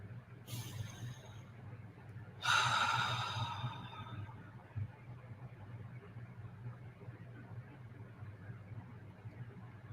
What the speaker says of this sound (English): taking a deep breath in through the nose and out through the mouth